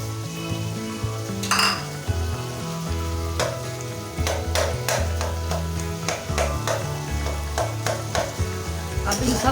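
Boiled eggs and vegetable pulao masala being sautéed in a pot give a loud sizzle under repeated sharp clinks and scrapes of a metal spoon against the pan, with no voices.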